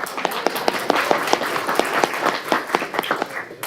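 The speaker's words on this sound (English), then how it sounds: "let's clap anyway" Applause for school award winners at a city council meeting, with a room of hands clapping in quick, uneven bursts and sharp individual claps standing out over a few seconds.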